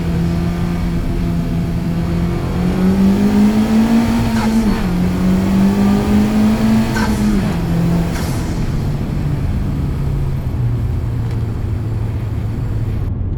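A 2018 Honda Civic Type R drives on the road, its engine droning steadily and rising in pitch as it accelerates, then settling back to a lower hum, heard from inside the car with no talking.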